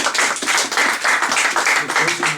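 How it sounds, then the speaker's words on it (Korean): A lecture audience breaks into brief applause, a dense, lively wash of clapping hands with a slightly rhythmic pulse that fills the room for a couple of seconds. "박수 한번 쳐주세요."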